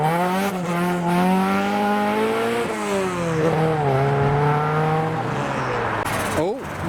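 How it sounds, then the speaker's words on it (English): A loud Vauxhall Viva pulls away from a custom car meet, its engine revving hard through rising and falling pitch sweeps, close and prominent with a brief sharp burst near the end. "a loud Vauxhall Viva making the departure"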